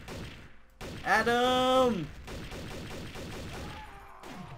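Gunfire in the multiplayer game Trouble in Terrorist Town, a burst of rapid shots with a pitched tonal blast in the middle, while players shout and talk over it.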